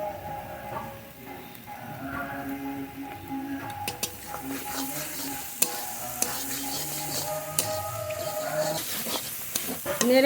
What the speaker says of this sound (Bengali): ভাজা তো প্রায় হয়ে গেছে এবার সাইডে একটু তেল দিয়ে দেব নেড়ে